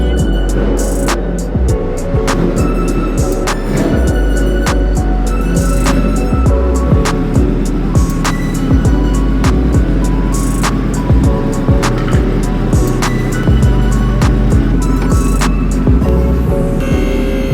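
A rear-wheel-drive converted Subaru STI engine runs loudly and close up before going onto a dyno, with a heavy, steady low rumble and crackling throughout.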